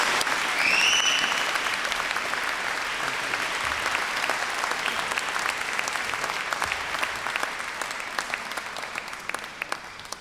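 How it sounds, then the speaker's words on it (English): Graduation ceremony audience at the University of Chester applauding, a large crowd clapping steadily for ten seconds with a brief whistle near the start, fading slightly toward the end. "Why don't we have another round of applause for all of the accomplishments we've made as students"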